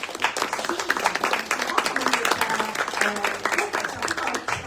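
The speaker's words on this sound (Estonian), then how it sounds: "publiku poolt me täname ka autoreid väikese aplaasiga" An audience at a book launch for a rose-growing book claps warmly in a steady, dense round of applause that carries through the whole stretch, close and fairly loud.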